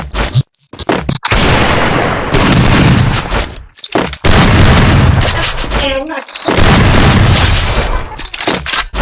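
Loud gunshots and booming blasts from a video game come in heavy bursts separated by brief silences, close and harsh, with a short squealing tone in the middle.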